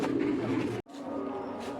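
Pigeons kept in a coop at home, where new chicks have hatched, give off a low, steady cooing that runs throughout, broken by a brief pause partway.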